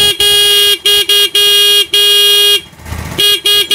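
A loud electric motorcycle horn, powered through a capacitor with no battery, sounds in a series of short and sustained honks, with brief gaps and the motorcycle engine rumbling underneath between blasts.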